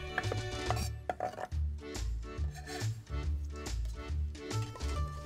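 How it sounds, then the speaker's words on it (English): Knife roughly chopping fresh parsley on a board, with a steady series of soft chopping taps repeated close by and no voices over them. "Give it a rough chop like I am here."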